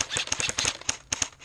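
An airsoft gun firing during outdoor tactical gameplay, a quick run of sharp snapping shots in a fast uneven rhythm, fairly close.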